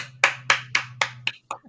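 Clapping in a podcast setting comes as five or six evenly spaced, crisp claps close to the microphone over a low steady hum, ending in a brief softer sound.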